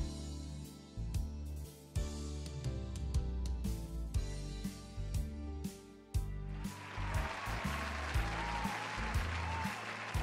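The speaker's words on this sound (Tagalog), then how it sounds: "isang virtual na palakpak para sa lahat" Recorded applause in a children's language lesson comes in partway through, a wash of clapping layered over a light, bouncy backing tune that plays throughout.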